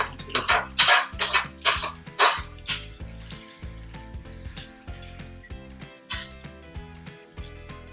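Metal utensils clatter and scrape against a pan and plate as spaghetti aglio e olio with prawns is moved, giving close, irregular bursts of clinking with quieter scraping between.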